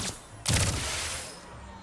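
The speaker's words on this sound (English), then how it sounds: "the arrow doesn't hit him, but then when it explodes, it does 26" An arrow bursts in the Skylanders Imaginators video game, fired with Bowslinger's weapon powers: one sudden, loud blast with a crackling tail that fades over about a second, with no talk.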